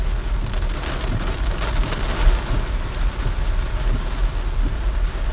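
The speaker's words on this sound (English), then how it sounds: "It is raining like cats and dogs." Heavy rain pours down steadily, a dense, loud hiss of drops drumming on surfaces with low rumbling underneath, continuous throughout with no voices.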